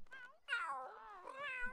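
Cats in The Sims 3 give two short, close meows in quick succession, the second longer and drawn out, clear and alone without talk.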